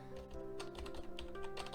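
Keys clatter on a Razer computer keyboard from the Power Up Bundle V2, a quick irregular run of close, crisp keystrokes over a faint steady hum, with no talking.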